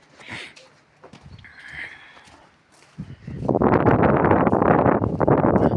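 Footsteps and rustling come first, then a strong gust of wind roars loudly against the microphone for the last few seconds.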